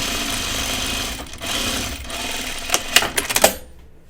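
A sewing machine hums steadily while stitching a French seam, then gives a few sharp clicks and clacks before stopping abruptly into silence.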